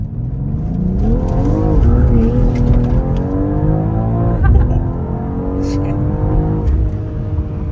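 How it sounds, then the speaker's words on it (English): A BMW X3 M launches hard, its engine roaring loud and rising through the revs as the tires scrabble for traction, with a brief hop and a gear change, then a steady pull as the SUV charges away. "It hopped as the tires were scrabbling for traction."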